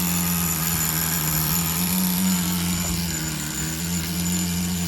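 A Tamiya TGS-R nitro engine in an on-road RC car runs continuously on the high-speed needle, giving a loud, close, buzzing drone with a steady pitch and no talking.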